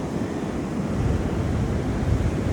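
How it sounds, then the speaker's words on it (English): Ocean waves wash steadily onto a beach, a continuous broadband roar with wind buffeting the microphone and no voices. "there's waves and there's a beach"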